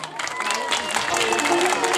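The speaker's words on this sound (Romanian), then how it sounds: "Hai încă o dată aplauze pentru dumnealor!" An outdoor crowd claps and cheers for performers at a traditions and crafts festival in Clejani, Romania. The sound is dense, steady and fairly close, a continuous patter of many hands.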